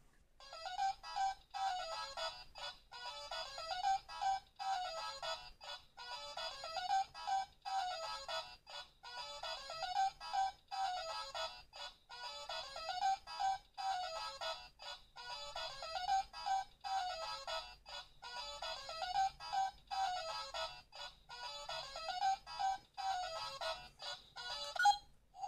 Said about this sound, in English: So yeah, that's a preview of the ringtone.